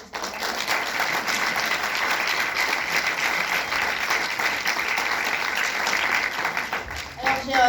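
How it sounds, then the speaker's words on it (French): Sustained applause from an audience, dense steady clapping throughout that carries on with no break before easing slightly near the end. "Je vais vous demander de les applaudir très très fort."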